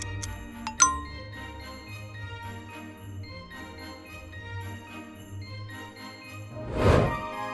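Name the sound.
bell jingling in a Christmas gift video game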